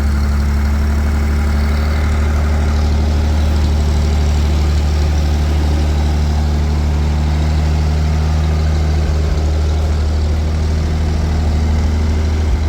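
A GAZ-52 truck engine idles steadily just after starting, a loud, close, continuous low rumble with an even throb and no talk over it.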